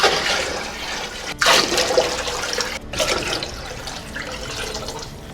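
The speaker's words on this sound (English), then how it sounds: "now fill this deep pan with the water almost till the edges." Water pours steadily from a tap into a deep pan, a continuous rushing splash with a brief interruption partway through, close by and fairly loud.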